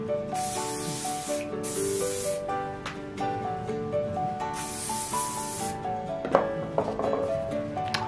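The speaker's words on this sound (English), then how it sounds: "You can also get some hairspray." Bursts of hairspray sprayed onto curled hair, several sharp hissing blasts in an uneven rhythm, close and fairly loud over soft background music.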